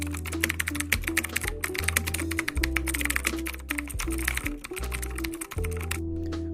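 Rapid, continuous typing of a paragraph on a computer keyboard, the dense keystrokes clattering steadily for several seconds over a low background hum, with a brief pause near the end.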